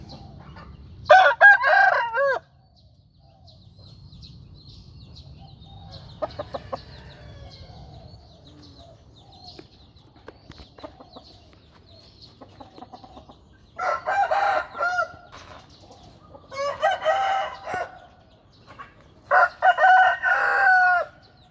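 A fighting rooster crows several times in loud, drawn-out bursts, separated by quieter stretches with faint rustling and low background noise.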